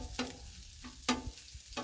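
Eggs frying on a Blackstone griddle for pork breakfast quesadillas give off a low steady sizzle, broken by a few sharp scraping stirs of a spatula.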